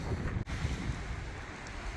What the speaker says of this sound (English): It's been windy the whole way along